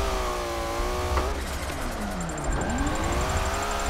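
Car engine in the racing game Forza Motorsport 7, on a drift build: loud engine revving with rising and falling pitch sweeps, a gear change and swooping tone shifts over four seconds, no voices.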